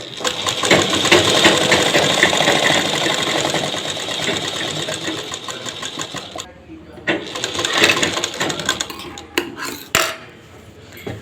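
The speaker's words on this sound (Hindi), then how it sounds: "यहाँ पे हम एक सिलाई चला देते हैं" A sewing machine runs one line of stitching on the pocket of a ladies' pant, a fast continuous whirring of several seconds, followed by short bursts and clicks as it stops and restarts, with a voice talking over it.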